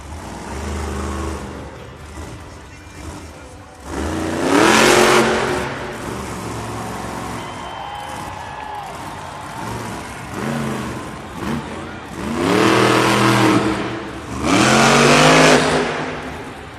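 Grave Digger monster truck at a Monster Jam event in Orlando, its engine roaring and revving in loud surging bursts with a lull between runs, crowd and arena ambience beneath.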